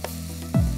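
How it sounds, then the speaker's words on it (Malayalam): Onions for chicken curry are sautéed in a pan, giving a short burst of steady frying hiss with a brief scrape of stirring near the end. "ഉള്ളി എപ്പോഴത്തേക്കാട്ടി കുറച്ചുകൂടെ ഒന്ന് നല്ലതായിട്ട് വഴറ്റണം"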